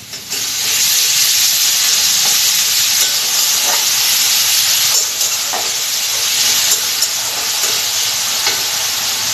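Ginger garlic paste frying in a pan gives a steady, loud, close sizzle, with a few faint stirring clicks throughout.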